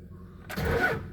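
A 2002 second-generation Cummins diesel truck, two-wheel drive and on weak batteries, cranks for a brief moment and then catches and starts into a loud, rough engine roar.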